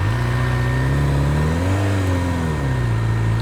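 A sports motorcycle engine idles loudly at slow speed, its steady drone rising briefly as the throttle blips, then settling back down.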